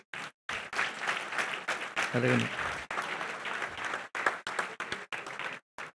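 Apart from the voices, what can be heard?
audience applause for prize winners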